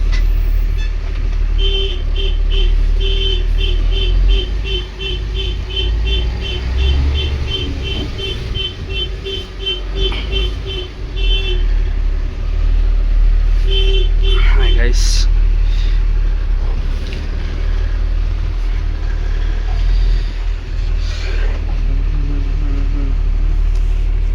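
Tata Signa 10-wheeler truck engine pulling away in third gear, a steady low diesel rumble with a rising whine partway through, interrupted by a brief horn-like tone, heard close throughout.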